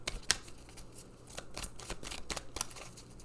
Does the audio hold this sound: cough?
no